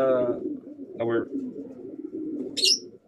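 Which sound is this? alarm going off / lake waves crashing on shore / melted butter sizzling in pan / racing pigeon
racing pigeon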